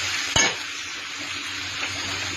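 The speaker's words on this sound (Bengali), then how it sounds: "দেখো ভেন্ডিটাও একটু ভাজি ভাজি হয়ে গেছে।" Sliced okra fries in hot oil in a pan, giving a continuous, close hissing sizzle broken early by one sharp clack of a utensil.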